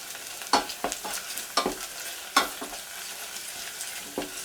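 Onions sauté in a pot with pepper paste and tomato paste, a soft continuous sizzle punctuated by repeated sharp scrapes and knocks of a spoon stirring, fairly close.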